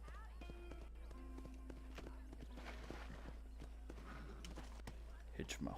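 In Red Dead Redemption, a horse clip-clops at a walking pace with steady hoof steps, fairly faint under game music and background ambience. A brief louder knock comes near the end.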